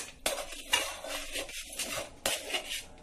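A utensil scrapes and clatters against a pot while rice flour dough is mixed, in several distinct bursts of metallic stirring and scraping, close and fairly loud, with no talk.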